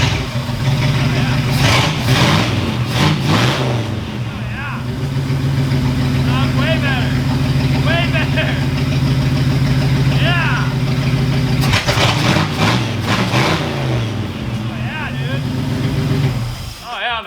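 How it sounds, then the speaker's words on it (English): A slammed Ford Galaxie's engine runs close by, idling roughly and then revving up in several bursts, with voices talking over the engine at times. "Cold revs and all, dude, this thing runs bitchin' now."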